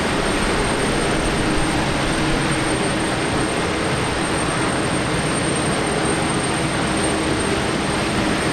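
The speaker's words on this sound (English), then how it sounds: "just arrived from South Korea. Flight 54. It's on the way to the international terminal" Jetstar Boeing 787 airliner arriving at Brisbane Airport, a steady broadband jet engine roar that stays loud and constant throughout with no talk.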